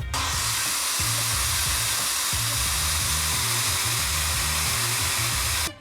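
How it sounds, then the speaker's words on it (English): A hair dryer heats a 2018 Subaru WRX headlight to soften its seal, blowing a loud, steady, close airy roar with a low motor hum for nearly six seconds before cutting off. "I'm thinking I'm just gonna use a hairdryer to crack it open"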